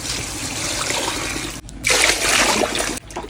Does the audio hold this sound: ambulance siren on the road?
no